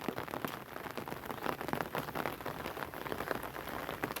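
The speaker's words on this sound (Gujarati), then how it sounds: "વરસાદ ચાલુ છે" Rain falling steadily over a village in wet weather, a dense continuous patter with scattered sharper drop hits, fairly close and with no talk over it.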